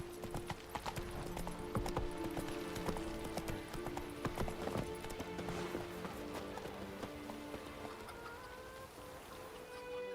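Roach, Geralt's horse in The Witcher 3, galloping with rapid, rhythmic hoofbeats close by and continuous, the pace easing slightly toward the end, with a tonal background hum underneath.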